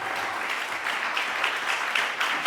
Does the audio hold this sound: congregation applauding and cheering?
yes